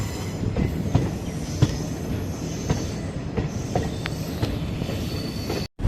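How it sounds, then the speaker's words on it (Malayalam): The Amritha Express running on the Manamadurai–Rameswaram line gives a steady loud rolling rumble with regular clicking rail joints and faint wheel squeal, heard from inside the train, cutting off briefly at the end. "നമ്മുടെ ട്രെയിൻ അങ്ങനെ മാനാമധുരൈ രാമേശ്വരം റൂട്ടിലേക്ക് കയറിയിരിക്കുകയാണ്"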